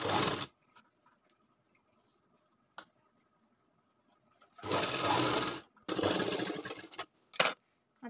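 A sewing machine stitches the lining of a katori blouse in short runs: a brief burst, a long quiet pause with a few faint clicks, then two sustained close whirring runs around a second each, ending in quick stops and starts.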